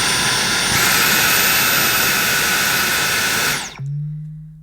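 A Dyson Micro cordless vacuum cleaner runs at maximum power, a loud steady high-pitched whine and rushing airflow that rises in pitch as it boosts, then cuts off abruptly and leaves a low fading hum.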